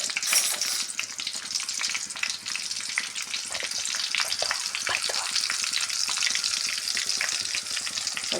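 Coconut oil with teak leaves frying in a pan gives a steady, dense sizzle and crackle that stays loud and even throughout, with occasional faint stirring scrapes and no talking.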